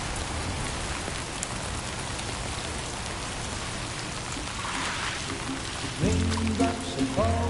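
Steady rain falls in the video game Death Stranding, a dense, even hiss of drops that holds throughout, with a brief tonal game sound rising near the end.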